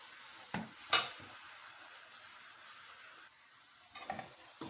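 A utensil scrapes and stirs vermicelli mixed with powdered milk in a wok for borfi. A couple of sharp scrapes early on, then quieter stirring, and a few more scrapes near the end, with no one talking.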